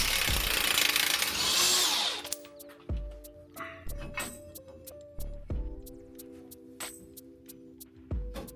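An impact power tool spins off 21 mm bolts on an old body style Chevy truck. It fires in short, loud, whining bursts after an opening roar, with sharp metallic ticks and clanks between the bursts.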